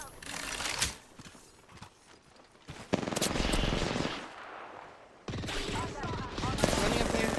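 Rapid bursts of automatic gunfire in a shooter video game, loud and close, coming in dense volleys separated by short lulls, with a player's voice talking over parts of it.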